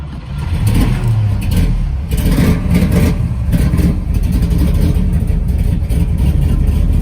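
A 1968 Chevrolet Camaro SS V8 engine at an auction, cranking and firing into a deep, loud rumbling idle with throttle blips and revs, heard up close and continuous.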